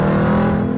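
A Jeep Trackhawk fitted with an aftermarket exhaust and cold air intake revs hard, a loud, close, thick engine roar with dense harmonic growl held steady through the short burst.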